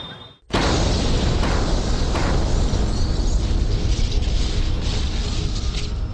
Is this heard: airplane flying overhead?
no